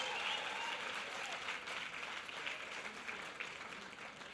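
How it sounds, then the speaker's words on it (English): An audience at a university business school anniversary celebration breaks into sustained applause, a dense wash of clapping holding steady and tapering slightly toward the end. "Can we give a round of applause?"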